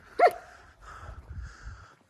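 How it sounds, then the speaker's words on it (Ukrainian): A farm dog gives a single sharp bark, followed by faint whimpering and low rustling noises nearby. "От гавкало таке."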